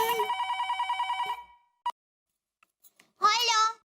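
A telephone rings in a house with repeated electronic trills for about a second and a half, then stops. A few faint clicks follow, and then a voice speaks briefly and close.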